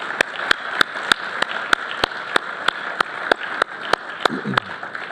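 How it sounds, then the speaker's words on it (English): Applause at a tenure and retirement celebration, with a bed of crowd clapping punctuated by sharp, evenly spaced claps from someone close by, beating steadily at about three per second. "I'd like to give those people a round of applause"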